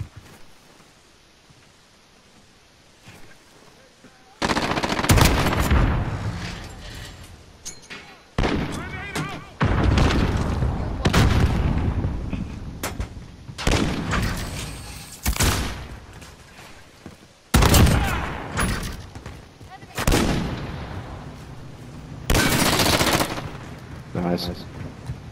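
Submachine gun fire in Call of Duty Modern Warfare comes in loud, close bursts separated by short pauses, after a quiet opening, with a voice talking in places.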